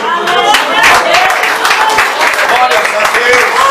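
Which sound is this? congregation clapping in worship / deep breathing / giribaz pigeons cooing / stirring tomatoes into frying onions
congregation clapping in worship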